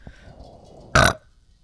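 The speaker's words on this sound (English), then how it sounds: "Wait, it's your first burp on video." A single loud, close burp lasting about a quarter second stands out against a quiet room.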